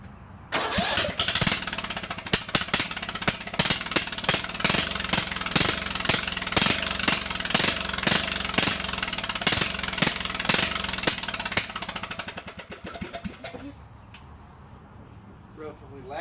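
A Craftsman LT1000 lawn tractor engine runs with no exhaust fitted: a loud, close, rapid, rattling mechanical roar that holds steady for about twelve seconds, then cuts off into quiet background sound.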